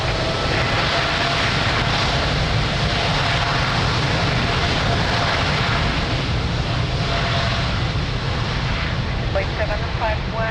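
An airliner taking off from runway 02 at Lisbon Airport, a loud, continuous engine roar that stays steady throughout, heard without talk.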